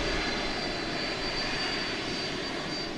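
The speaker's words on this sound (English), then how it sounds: "That noise you hear was the UPS 767 pulling by us." A UPS Boeing 767 jet taxis past at DFW Airport at night, a loud, steady roar and whine of its engines rolling close by without letup.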